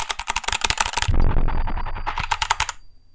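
Noisy mechanical keyboard typed on in quick bursts of sharp, clacky keystrokes, loud and close, with a brief lower rumbling stretch in the middle.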